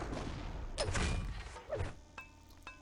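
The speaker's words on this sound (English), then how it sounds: "those are fireworks and not gunshots" Fireworks going off outdoors in a neighbourhood: a few muffled bursts followed by two short, sharp cracks, fairly distant over a steady background hum.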